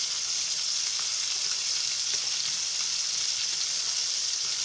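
Pork medallions sear in a hot pan with a constant, even sizzle and hiss, close and unbroken throughout.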